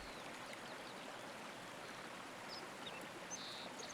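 Clear water bubbling up from a shallow, pebble-ringed headwater pool, a steady gentle trickle with soft splashes and faint bird chirps on top.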